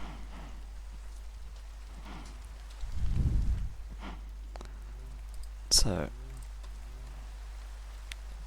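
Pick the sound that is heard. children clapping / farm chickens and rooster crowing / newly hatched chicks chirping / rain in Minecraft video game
rain in Minecraft video game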